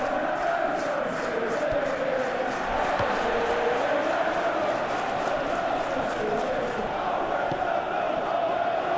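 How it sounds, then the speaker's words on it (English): Stadium crowd noise from a Chelsea vs Manchester City Premier League match simulated in PES 2021, a steady broad roar with murmuring and cheering swells running throughout, moderately loud. "The crowd appreciates good football all round there."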